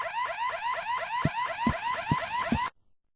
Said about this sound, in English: but soon an alarm went off